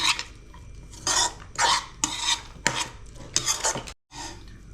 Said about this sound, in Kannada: ಈಗ ಮಿಕ್ಸ್ ಮಾಡೋಣ ಬನ್ನಿ